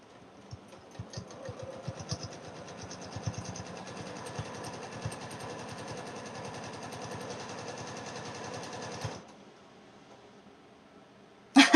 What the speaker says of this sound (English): I'm going to top stitch these guys about 1/4 of an inch away from the edge.